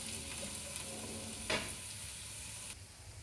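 Raw onions and green chilies frying in hot oil give a steady, close sizzle with faint stirring scrapes and one brief sharper clatter midway.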